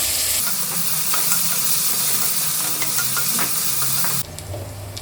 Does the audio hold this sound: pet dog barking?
no